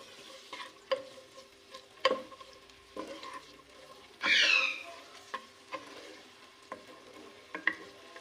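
A medium sliced onion frying in hot oil over a medium flame for palak gosht, stirred with repeated close scrapes and taps of a spoon against the pan and one longer burst of sizzling.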